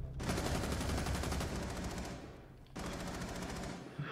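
Rapid automatic gunfire in the video game CS:GO, two long bursts of fast, evenly spaced shots, the first running about two seconds before a brief gap and the second resuming just as loudly, with no talk over it.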